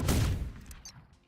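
A magic gun in Terraria fires a fast burst of crackling shots that fades after about a second, moderately loud and with no voice over it.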